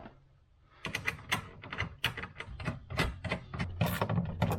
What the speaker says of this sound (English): Now we'll tighten the bolts up.